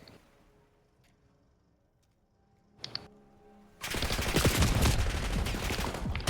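Rapid automatic gunfire in Black Ops 6 bursts out loud and sustained after a few quiet seconds broken only by a couple of faint clicks and a short thump.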